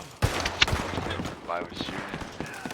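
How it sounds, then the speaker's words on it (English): A couple of abrupt gunshots go off in Red Dead Redemption 2 within the first second, partly buried under a frantic voice talking over a busy game mix. "I was shooting."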